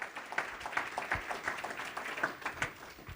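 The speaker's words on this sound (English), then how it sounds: "let's give Dan and his team a round of applause again" Audience at a 2017 civic innovation summit breaks into steady applause, a dense wash of many hands clapping at moderate volume, continuing evenly for a few seconds with no talk over it.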